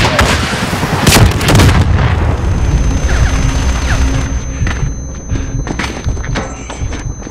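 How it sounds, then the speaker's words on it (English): Incoming missile explosions in the Call of Duty Modern Warfare video game, a loud burst of heavy booms and blasts in the first two seconds, then a rumbling battle bed with scattered sharper impacts and crackles. "Missiles incoming!"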